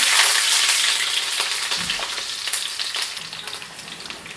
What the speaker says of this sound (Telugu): ఆయిల్ బాగా వేడెక్కిన తర్వాత మనం కట్ చేసి పెట్టుకున్నాం కదా ఆనియన్ ముక్కలు వేసుకోవాలి